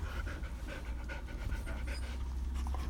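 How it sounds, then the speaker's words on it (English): A female dog pants rapidly and steadily close by, a soft rhythmic huffing that carries on without pause. "I don't know if you can hear her panting."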